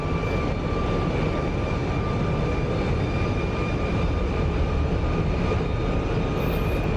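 F-35B jet in flight in the DCS flight simulator, a steady loud broadband engine roar with faint tonal whine, continuous and unchanging throughout.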